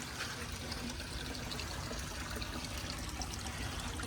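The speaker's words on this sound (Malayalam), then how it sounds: "വെള്ളം നമ്മൾ തുറന്ന് വിട്ടിട്ടുണ്ടോ" Water runs into an alligator gar fish tank with a quiet, steady trickle and splash that continues unbroken, with no talking.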